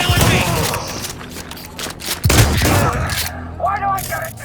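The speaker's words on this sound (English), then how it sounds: "Under heavy fire!" Heavy automatic gunfire in Cyberpunk 2077, dense bursts of shots and booming impacts crackling close by in a sustained firefight, with a character's voice shouting over the noise.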